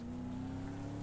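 A Pro 4 racing truck lapping Wild West Motorsports Park in a racing video game, a steady droning engine hum held at constant pitch, loud and continuous without speech.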